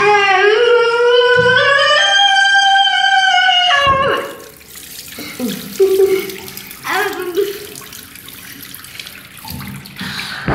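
A tap runs to fill a child's bath. A loud, rising tonal voice-like sound comes first, then a steady close rush of water with scattered splashes and bumps.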